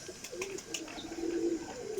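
Close, sustained low cooing from a Salara Cheena flying pigeon rises into one long throaty phrase, with light clicks and scuffs in the background.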